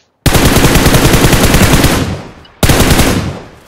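Automatic gunfire in PUBG Mobile, a loud close burst of rapid shots lasting about two seconds, fading, then a second burst starting abruptly.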